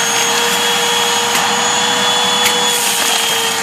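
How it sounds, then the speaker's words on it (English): A vacuum cleaner sucks up dirt outdoors with a loud, steady roar and constant motor whine, broken by a few sharp rattling clicks of debris. "We're gonna vacuum off some dirt."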